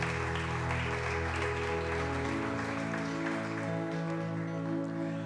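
Church congregation applauding during a sermon, a broad, steady wash of clapping sustained throughout over low organ or keyboard chords.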